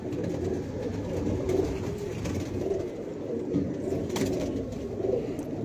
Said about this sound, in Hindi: सुनहरी पल्ले वाला कबूतर है